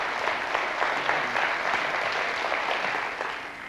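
A studio audience at the French TV quiz show Questions pour un champion applauds the finalists in a steady, even round of many hands that fades slightly toward the end.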